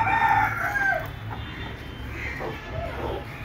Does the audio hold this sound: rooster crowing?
yes